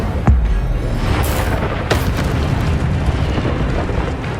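Loud fiery spell blasts from Hogwarts Legacy, the Incendio fire spell bursting in a deep roaring boom that rumbles and crackles continuously, with a couple of sharp bright pops partway through.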